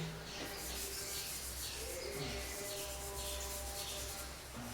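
A steel chef's knife blade rubbed back and forth on fine soft coconut shell powder, giving a steady close scratchy scrubbing in repeated strokes, fairly quiet, with no talk.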